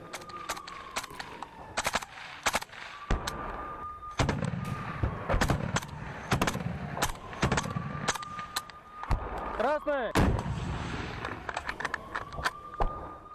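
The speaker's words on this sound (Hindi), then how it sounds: "रूसी सैनिक ने यूक्रेनी फौज पर ताबड़तोड़ गोलियां बरसाई हैं" Rapid bursts of automatic gunfire crack through war footage from the Russia-Ukraine fighting in Donetsk, loud and close, with repeated shots across the whole stretch and a high whining tone running beneath the volleys.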